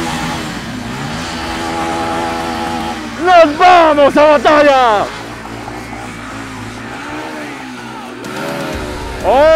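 Motorcycle engines, including a Benelli, idle, then rev hard in a burst of sharp rising accelerations at a quarter-mile drag race, loud and close; someone speaks briefly over the noise.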